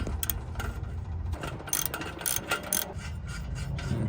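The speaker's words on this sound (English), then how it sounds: "take a 14 and undo this bolt." A ratchet fitted with a 14 mm socket undoes a bolt on the exhaust of an Infiniti Q60 during a titanium Y-pipe install, its rapid pawl clicks coming in close, uneven bursts over a low garage hum.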